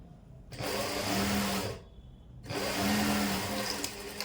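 A sewing machine stitches the sleeve seam of a kurti in two steady whirring runs, each a little over a second long, split by a brief pause, close and clear with no talking.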